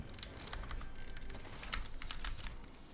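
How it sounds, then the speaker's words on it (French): A computer keyboard hammered hard in rapid, uneven bursts of sharp clicks during a competitive online game match, close and loud with no voices over it. "Le pauvre clavier."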